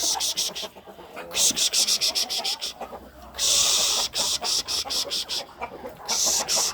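Chickens in a farmyard, clucking and scratching in bursts with a rough, scraping texture, fairly close and steady through the moment.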